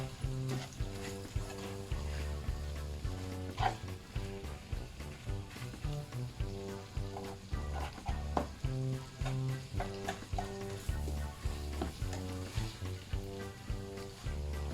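Sausage meat frying in a pan for a cabbage casserole, a soft sizzle beneath a repeating musical backing, with occasional scrapes as the meat is broken up, no talking.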